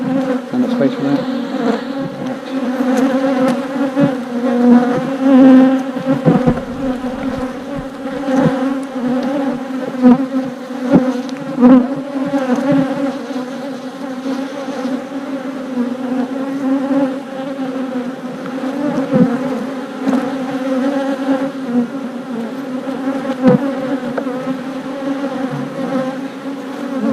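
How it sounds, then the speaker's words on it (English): A dense swarm of honeybees buzzes steadily around a newly set-up hive during a beginner's inspection, the loud, close drone continuous for the whole stretch with small swells as bees pass near. "Man, look at all these bees around me."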